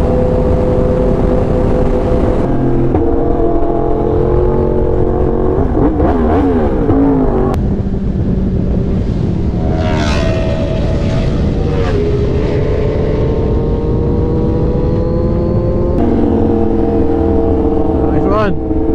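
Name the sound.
V4 Speciale motorcycle flyby and revving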